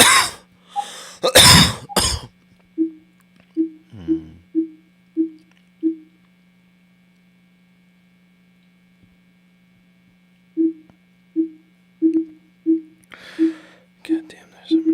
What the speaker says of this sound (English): me coughing a bunch.